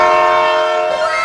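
A Vande Bharat Express train passes close by, giving off a loud, sustained tonal whine like a horn, steady throughout the short moment.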